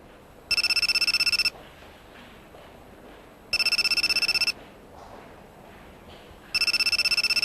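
A mobile phone rings in three identical bursts of an electronic ringtone, each about a second long, separated by quiet pauses, clear and fairly near in an animated film scene.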